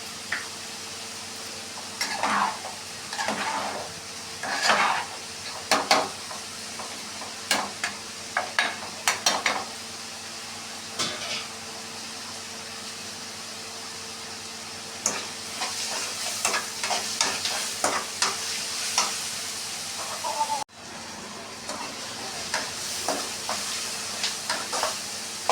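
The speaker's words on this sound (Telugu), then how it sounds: "ఉల్లిగడ్డలు ఫ్రై అవ్వడం చాలా లేట్ అవుతుంది అన్నమాట." Onions frying in a pan for an egg fry dinner, a steady soft sizzle broken by repeated scraping and clinking strokes of a spoon stirring, close and clear with no talking.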